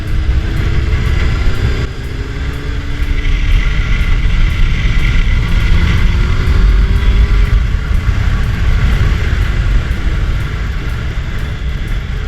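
Yamaha Fazer 600 motorcycle riding along, a steady broadband engine and wind roar with faint rising engine tones, loud and continuous throughout with no talk.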